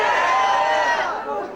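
A crowd cheering and shouting at a rock fan convention Q&A session in Florida, a loud sustained roar of many voices that gradually fades toward the end.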